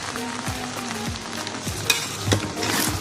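Chinese rice being stirred and mixed in a frying pan, with a steady sizzle beneath repeated scraping strokes of a spoon across the pan, close and clear, no talking.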